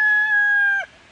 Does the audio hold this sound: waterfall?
no